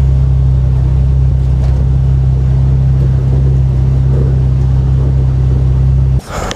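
A BMW E36 track car's engine pulling hard on track, a loud, close, steady low droning roar held for about six seconds before it cuts away abruptly to quieter sound.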